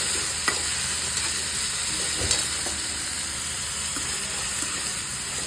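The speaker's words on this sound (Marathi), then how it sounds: "आता ह्याला फोडणी देते मी फोडणी दिली मिरची लसूण आणि एक टमाटर थोडंसं कापून टाकलं" Green chillies, garlic and chopped tomato are tempered in hot oil in a kadhai, giving a loud, steady sizzle with a few soft stirring taps.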